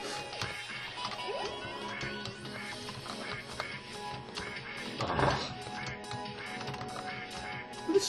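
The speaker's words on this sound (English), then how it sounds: "Hopefully you can enjoy the duck and the quacking." Quacking duck in the video game I Wanna Get Cultured, heard amid dense game music and effects, with a brief louder burst in the middle and a sharp accent near the end.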